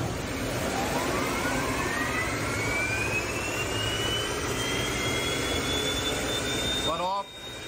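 Car brought in with transmission trouble, roaring loudly and steadily like a jet taking off, a rising whine sweeping upward over a constant rumble before cutting off abruptly near the end.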